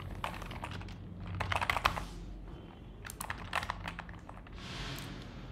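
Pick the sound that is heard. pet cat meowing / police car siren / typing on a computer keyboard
typing on a computer keyboard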